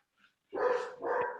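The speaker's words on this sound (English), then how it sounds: "Whoever's got the dog barking, go on mute." A dog barks twice in the background of a video call, two short loud barks close together after a brief faint sound, otherwise quiet.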